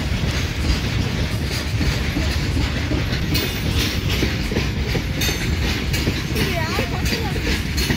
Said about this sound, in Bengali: এই যে সাইড দিয়ে একটা ট্রেন যাচ্ছে দেখছো